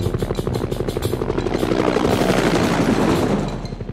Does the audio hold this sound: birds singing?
no